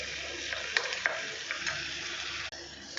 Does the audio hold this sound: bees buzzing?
no